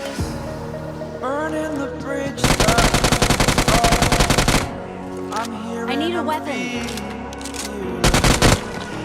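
Loud bursts of rapid automatic gunfire in PUBG, two long volleys and a short final burst, over background music and game sound effects.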